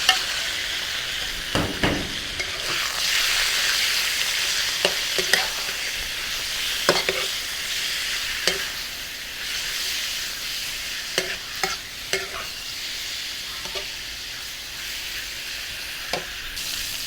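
Pork belly stir-fries in a hot pan for a Thai braised dish, rendering its fat. A continuous close sizzle is broken by sharp, irregular clacks of a spatula against the pan.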